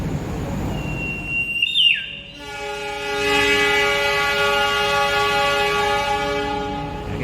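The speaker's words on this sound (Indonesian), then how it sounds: "ini di jalur 3 ada kereta api Fajar Utama Solo ya" The Fajar Utama passenger train at Purwokerto station, bound for Solo Balapan from Jakarta's Senen station, sounds a rising then falling horn blast, followed by a long, steady multi-tone horn over rumbling rail noise, loud and close.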